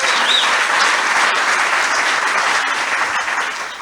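Audience applause at an investor summit, steady dense clapping from a crowd throughout, slowly tapering toward the end.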